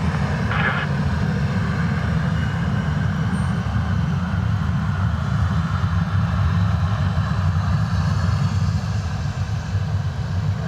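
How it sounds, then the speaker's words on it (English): A Ryanair airliner back-taxis down a runway at Dublin Airport on a wet, windy day, its engines giving a steady, loud, broadband roar that continues without pause. "They're back taxiing down the runway"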